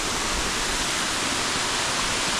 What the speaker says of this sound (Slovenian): Evo ga, še en slap.